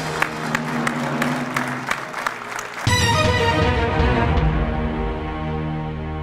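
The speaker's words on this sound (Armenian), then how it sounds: "ես ուզում եմ ծափ արեմ։" Studio audience applause on an Armenian TV quiz show fills the room loudly and continuously, swelling into a denser, heavier burst of clapping partway through.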